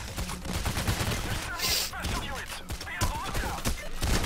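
Dense, fast gunfire from the bank heist game Payday: The Heist crackles almost nonstop, loud and close, with rapid shots and impacts overlapping throughout.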